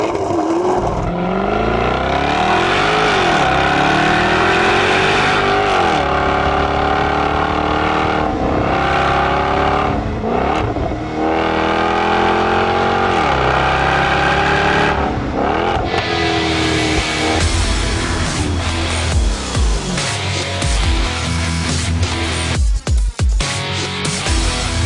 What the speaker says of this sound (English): Under the XKRS's massive hood, you'll find a 5-litre supercharged V8 boasting 542 brake horsepower and 501 pound-per-foot of torque.